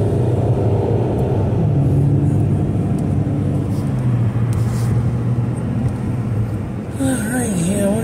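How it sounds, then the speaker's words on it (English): A bus returning to a base drives past, its engine a steady, loud rumble that holds throughout and shifts slightly near the end. "Here comes a bus coming back to the base."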